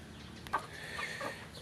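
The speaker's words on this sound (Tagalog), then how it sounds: "Ito na nga pala yung first batch ng mga manok ko" Four-month-old heritage chickens on a small farm, a few soft clucks sounding close but quiet over a low background hum.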